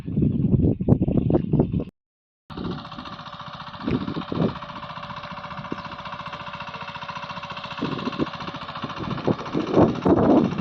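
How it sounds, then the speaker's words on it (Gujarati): A tractor engine sowing cotton in a farm field drones steadily close by, with a loud rumbling burst at the start, a brief cut, then a rhythmic mechanical chugging throughout. "સિંગડા ટ્રેક્ટર લઈને આવી ગયા કપાસ વાવવા"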